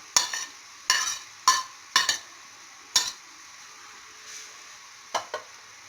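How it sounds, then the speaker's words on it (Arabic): A spoon or spatula stirs red peppers into a filling in a pan, giving a series of short, sharp scraping strokes at an uneven pace, close up, with no one speaking. "ونخلطو مزيان هادشي الحشوه ديالنا"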